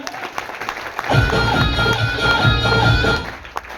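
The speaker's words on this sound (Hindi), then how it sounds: "कोच माननीय गुरुदेव सुनील शर्मा जी को एक बार जोरदार तालियां" An audience gives loud applause for their coach, a dense burst of clapping that swells after a quiet moment and holds for a few seconds before tapering.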